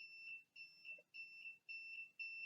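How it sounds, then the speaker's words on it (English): A high-pitched electronic buzzer on an HC-SR04 ultrasonic distance sensor sounds in repeated long beeps with brief gaps between them, steady and faint, with nothing else around it. "you can hear that the frequency of the beep is increasing"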